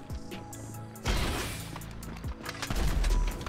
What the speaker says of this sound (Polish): One strzelają mocno!